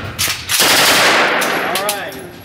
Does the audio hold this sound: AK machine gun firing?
yes